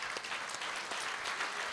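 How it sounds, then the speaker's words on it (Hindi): Church congregation applauding during a Sunday Mass for the Ascension of the Lord, a dense steady patter of many hands clapping at moderate, somewhat distant level, with no talk over it. "तालियां बजा दें,"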